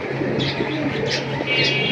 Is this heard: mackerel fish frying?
no